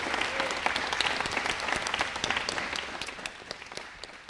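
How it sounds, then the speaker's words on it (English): Audience at a 2016 SSI campaign debate bursting into sustained applause, dense clapping from a large crowd that holds steady and then gradually thins toward the end. "let's give those three a good round of applause"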